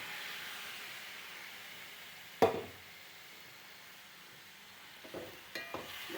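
Half a kilo of chicken rubbed with turmeric and salt drops into hot pepper masala with a sudden loud sizzle, then settles into a soft, steady frying hiss with a few scraping stirs near the end; no voices.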